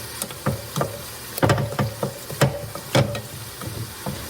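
Turmeric powder is stirred in a frying pan on a home stove: a spoon scrapes and knocks in irregular strokes, roughly twice a second, over a soft sizzle, fairly close and moderately quiet.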